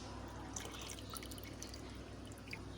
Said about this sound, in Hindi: तो चलिए अब इसमें कास्टर्ड सोडे वाला पानी और नीम मिला पानी मिक्स कर देते हैं।